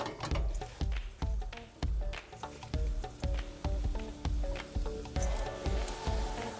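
Fresh spinach hisses and crackles as it goes into a hot pan for a Persian borani. The sizzle comes in regular pulses, about two per second, against a quiet kitchen background.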